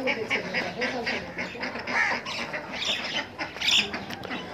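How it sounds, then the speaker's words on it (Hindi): Pet ducks kept with hens in a backyard, quacking and squawking close by in a busy, overlapping chorus. "ये मेरे बतका"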